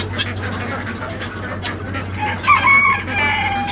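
Several chickens cluck and squawk nearby on a farm, growing louder toward the end, with turkeys and other farm birds and a faint low hum in the background.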